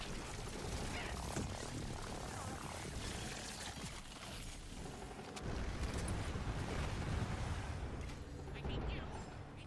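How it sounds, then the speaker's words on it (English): Explosions in Tiny Tina's Wonderlands rumble in a dense, loud, continuous wash of booms and crashing debris, swelling heavier in the second half, with talk mixed in beneath. "Hear many explosions."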